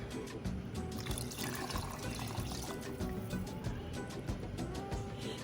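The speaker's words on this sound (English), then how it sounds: "give this a nice little swirl, and pour this into the pot" Steady broth pouring and splashing into a pot, a continuous wash of sound close by with no talking.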